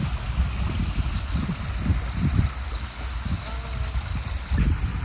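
Water rushing steadily through an 18-inch gate at a long crested weir on an irrigation ditch in Corrales, New Mexico, a continuous churning outdoor flow heard close with low turbulent surging and no voices.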